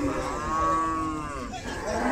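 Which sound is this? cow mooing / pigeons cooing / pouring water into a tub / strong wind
cow mooing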